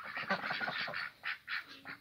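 Ducks in a village yard, likely Bashkir ducks, quack in quick, close bursts. Several calls come in a rhythmic series, then spaced-out louder quacks.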